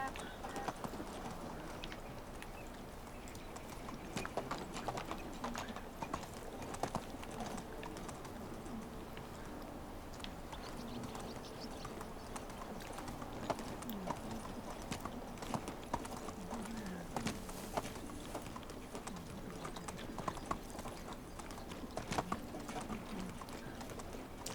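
Steady, rhythmic hoofbeats of a galloping horse in Medieval Dynasty carry on continuously at a moderate, even level, with faint ambient game sounds behind them.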